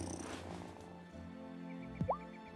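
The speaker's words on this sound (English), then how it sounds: "Pet the cat now." Video game cat in Wylde Flowers purring while petted; a soft, low continuous purr under background game music, with a brief bright chirp near the end.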